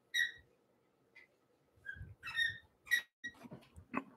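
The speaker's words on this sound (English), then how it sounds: "it's my dog biting her tennis ball." A dog chews and bites on a tennis ball, giving scattered soft squeaks, thumps and gnawing clicks in bursts with quiet gaps, fairly faint and close, with no talking.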